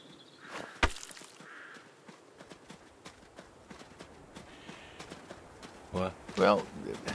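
Video game horse hooves clip-clop at an uneven pace alongside a sharp thud and a few brief vocal sounds near the end.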